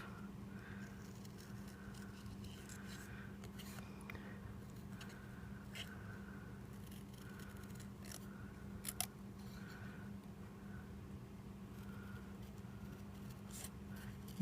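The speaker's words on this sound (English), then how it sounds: "trying to muscle the scissors around curves" Scissors cutting cardstock around curves for a handmade card, faint rhythmic snips repeating every second or so, soft and close in a quiet room.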